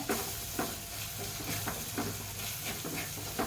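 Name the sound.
stirring and frying fish curry masala in a pan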